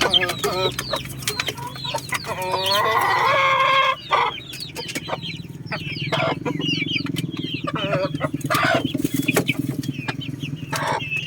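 Chickens cluck busily in a breeding pen, sharp repeated calls overlapping close by, with a rooster's crow rising early on and a low steady hum underneath.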